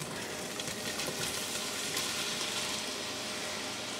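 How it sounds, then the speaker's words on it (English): One pound of crawfish tail meat sizzling in a hot pan for a Cajun crawfish and shrimp casserole, a loud, dense, continuous frying hiss close up with no talk. "start adding our seafood in, and that consists of 1 pound of crawfish tail meat"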